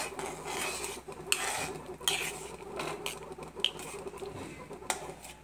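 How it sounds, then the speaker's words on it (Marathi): Crushed cardamom being stirred into sugar syrup for laddoos, soft close scraping and occasional light clinks of a spoon against a metal pot, quiet and intermittent, with no voices. "आपण पाकात टाकून आपण हे मिक्स करून घेऊया"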